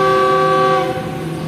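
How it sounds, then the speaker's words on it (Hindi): The Fareed Express, a private train, sounds a loud, sustained horn blast as it departs Walton railway station in Lahore. The tone fades into rumbling rail noise after about a second. "तो ठीक 2 मिनट रुकने के बाद ट्रेन डिपार्ट कर रही है वॉल्टन रेलवे स्टेशन से"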